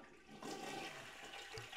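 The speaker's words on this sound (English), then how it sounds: "Flush the goddamn toilet and then use it." A toilet flushes in The Sims 1, a single rushing gurgle of water that starts abruptly and holds steady to the end, moderately loud with no voices.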